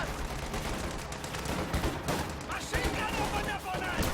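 Sustained .50 cal machine gun fire in a Company of Heroes 2 battle, dense rattling bursts mixed with other battlefield gunfire and explosions throughout, with a commentator talking over it.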